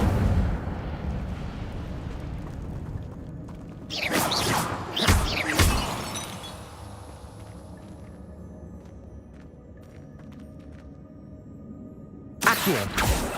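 Incendio fire spell in Hogwarts Legacy, set in a cave, with sharp crackling bursts of flame around the middle and another at the end over a low ambient rumble.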